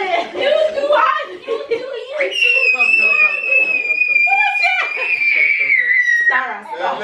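A young girl screams loudly and shrilly in a family home during a rock-paper-scissors game, one long piercing cry held for several seconds after some excited chatter and giggling.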